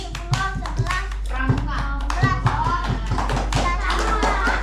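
Schoolchildren in a sixth-grade class play a counting clapping game at an Islamic iftar gathering, sharp hand claps in quick rhythmic bursts that ring out close and loud, with a voice and kids' chatter mixed in.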